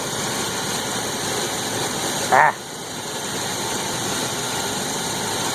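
A 1992 Chevy Silverado Z71 4x4 idles with a fairly new, quieter muffler, a steady even engine hum heard up close, broken by one brief clunk partway through.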